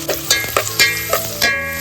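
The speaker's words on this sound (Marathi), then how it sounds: "तोपामध्ये तेल गरम करायला ठेवला होता आपण आणि हा कांदा घातलेला आहे" Onions sizzle and crackle in hot oil, with several distinct stirring scrapes punctuating the frying at irregular intervals.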